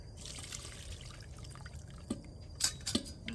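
Reduced pressed duck sauce strains through a fine strainer in a quiet kitchen, giving a soft steady trickle with a few brief splashy drips and clinks near the end.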